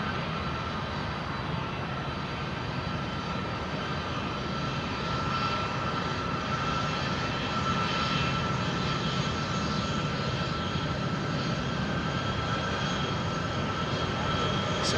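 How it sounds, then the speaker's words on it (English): Boeing C-17 military transport aircraft engines roaring steadily at an airport runway entry point, a loud continuous broadband rumble and whine holding for the whole stretch with no talk over it. "It's a C-17, folks."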